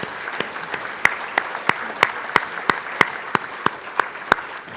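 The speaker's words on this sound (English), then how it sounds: "please join me in a round of applause for the sponsors who made this possible" Applause at an award dinner for sponsors, a room of diners clapping together with a strong steady rhythm of sharp, evenly spaced claps over a softer spread of hands.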